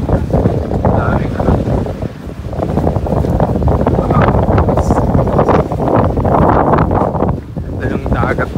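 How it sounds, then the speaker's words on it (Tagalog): Strong sea wind roars and buffets the microphone at the Bangui windmills on the coast of Ilocos Norte, a steady loud rush with surf beneath it and a voice speaking over it. "Malakas lang yung hangin guys"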